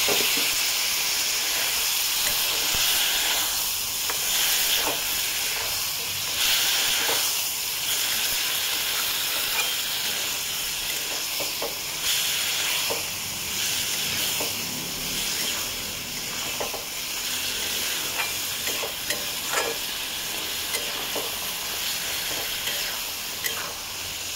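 Spices frying in a pan with a little water added for a Bengali fish curry with potatoes and onion stalks give off a continuous bright hiss and sizzle, with faint ticks and pops throughout, close up and steady.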